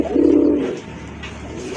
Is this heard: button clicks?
no